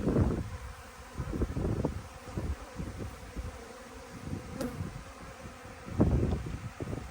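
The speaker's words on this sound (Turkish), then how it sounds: "Arı sesi." Bees buzz around the hives at an apiary, a continuous close droning hum with a few louder passes near the microphone and a light rustle of wind.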